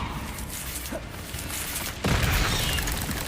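Confringo fire spell in Hogwarts Legacy, a sudden loud explosive burst about two seconds in after quieter spell and combat sounds, followed by sustained crackling rumble.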